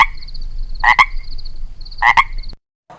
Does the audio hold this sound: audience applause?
no